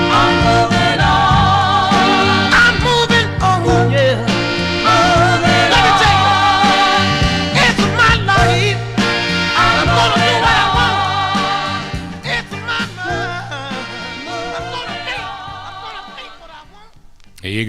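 A 1960s soul record spinning on vinyl, a full band and vocal mix playing steadily and loud, thinning out toward the end.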